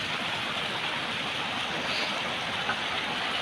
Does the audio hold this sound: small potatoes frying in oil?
no